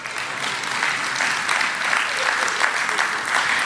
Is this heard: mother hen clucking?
no